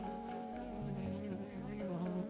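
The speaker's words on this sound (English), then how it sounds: "plenty of bees on here." Honey bees buzz steadily around an open, thriving spring hive, a close, dense, continuous drone.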